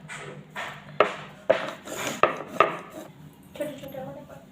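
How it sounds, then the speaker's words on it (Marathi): Warm sesame-jaggery tilgul vadi being cut into pieces with a knife, a series of sharp knocks and scraping taps against a plate or tray at an irregular pace, close and fairly distinct. "मी ह्या चाकूनं उलटा करून वड्या पाडून घेत आहे"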